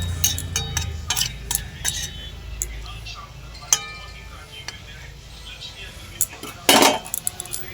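A spoon scrapes and clinks against a cooking pan while a fish curry with water added is mixed, repeated metallic taps and scrapes up close, with a louder clatter near the end.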